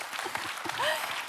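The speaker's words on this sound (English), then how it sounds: "One big applause" Audience applause for Olympic champion Sara Isaković of Slovenia, a dense, steady wash of many hands clapping throughout, with a brief high whistle rising through the middle.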